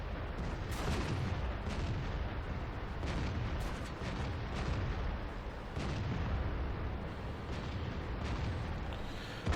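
Deep booming tank cannon fire and explosions from World of Tanks rumble continuously through a dense, loud battle soundscape, with several heavier thuds standing out over the roar.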